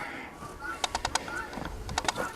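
Backyard barnyard birds, including silkie chickens, out in snow and ice give soft cooing calls and several quick bursts of sharp chirps over faint background noise.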